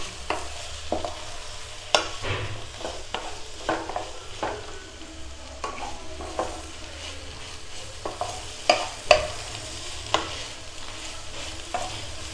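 Kothu chappathi, shredded chappathi mixed with chicken, egg and masala, is stirred in a frying pan, giving a soft steady sizzle broken by irregular scraping and clanking strokes of the spatula, close by with no talk.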